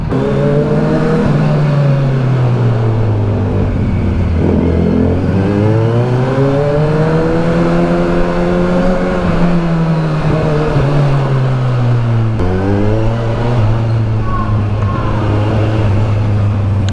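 Kawasaki Versys 1000 SE, a 1000cc motorcycle, heard on the move with a loud continuous engine note that rises and falls through the gears, plus steady wind rush and no talk.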